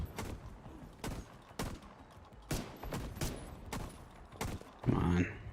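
Gunshots in The Division 2 video game ring out as sharp, separate reports about once a second, fairly faint, under intermittent talk.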